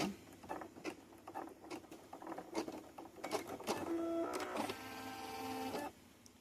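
An embroidery machine stitches an in-the-hoop corner bookmark design, giving a steady, fast mechanical patter of needle strokes with brief tonal whirs from the hoop moving; it runs close and clear, then cuts off near the end.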